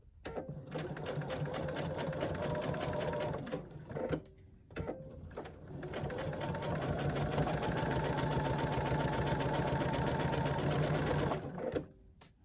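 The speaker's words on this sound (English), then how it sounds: "I've got my machine starting in the down, needle in the down position." A sewing machine stitches quilt pieces in fast, loud, even bursts, running about four seconds, pausing briefly, then running again for roughly seven seconds before stopping.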